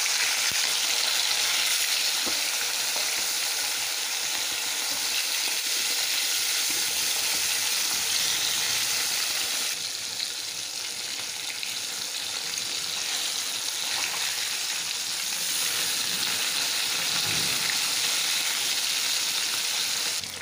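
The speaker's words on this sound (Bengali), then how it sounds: "এখন মাছটাকে একটা একটা করে আমি ভেজে নেব।" Fish pieces frying in hot oil in a pan, a loud, steady close-up hiss and crackle that carries on unbroken throughout with no talk.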